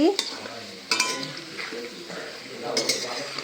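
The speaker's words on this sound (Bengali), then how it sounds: "এদিকে আলুও ভাজতে শুরু করে দিয়েছি" Potatoes frying in a pan on a village stove, a steady soft sizzle with occasional stirring scrapes and utensil clinks close by.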